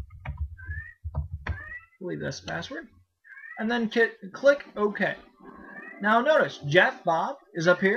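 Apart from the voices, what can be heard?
cat meowing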